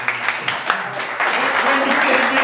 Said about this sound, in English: Let's give a hand for everybody.